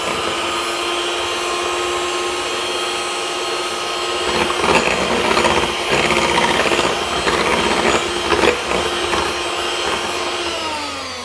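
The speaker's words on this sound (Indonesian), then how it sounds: "Lanjut mixer sebentar." An electric mixer whirs steadily through pukis batter, a continuous motor whine that grows slightly louder and rougher midway before easing off again near the end, with no voices.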